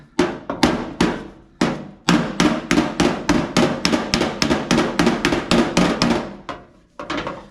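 Rapid hammer blows ring out one after another while a 1964 Impala fender is reshaped, a close, loud, fairly steady series of sharp metallic strikes with a few short pauses.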